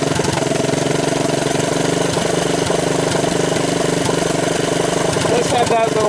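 A 1983 Honda ATC200 three-wheeler with a freshly rebuilt top end runs close by, its small single-cylinder engine holding a steady, buzzing idle with a slight rise near the end.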